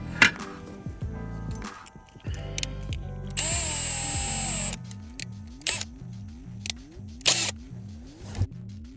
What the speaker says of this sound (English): There he is, drilling into the brace.